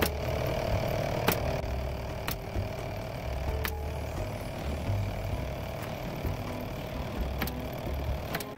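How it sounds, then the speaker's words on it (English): An air compressor runs steadily throughout with a constant motor hum, while sharp transient clicks of nailing punctuate it several times, all while wood trim is fastened in a split curved ceiling job. "that's what you're hearing right now is my air compressor"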